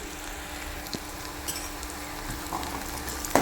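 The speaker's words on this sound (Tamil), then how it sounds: "நல்லா ஒரு கோல்டன் ப்ரௌன் ஆகிற வரைக்கும் சும்மா லைட்டாக வதங்கினா போதும்" Egg curry base cooking lightly toward golden brown in a pan, a soft, fairly quiet sizzle under a low steady hum, with a few faint clinks and a louder scrape at the end.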